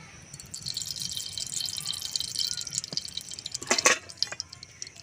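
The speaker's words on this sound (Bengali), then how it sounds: "আমি দিয়ে দেব সাদা তেল" White cooking oil trickles onto a hot tawa with a soft, steady liquid hiss and a few brief drips near the end, fairly quiet and close, no voices.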